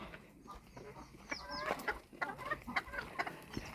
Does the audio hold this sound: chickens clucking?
yes